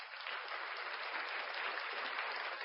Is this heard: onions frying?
no